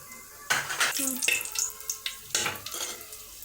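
Whole star anise, clove, cardamom and bay leaf sizzle and crackle in hot oil in a pan, with a steady frying hiss broken by bursts of stirring and clinks of a spoon against the pot.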